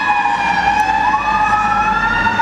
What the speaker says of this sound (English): you can hear the fire trucks now going